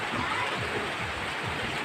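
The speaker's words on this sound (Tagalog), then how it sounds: "Grabe ang ulan." Steady heavy rain pours down at the coast, a dense continuous hiss with no break and no voices.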